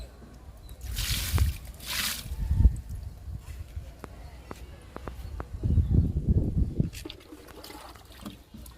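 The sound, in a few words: pouring liquid fertilizer onto a sapota plant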